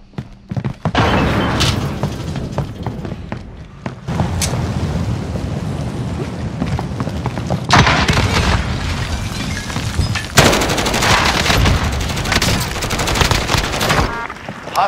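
Gunfire in Call of Duty Modern Warfare comes as loud, continuous rattling bursts and booms, with dense overlapping shots and a few brief pauses throughout.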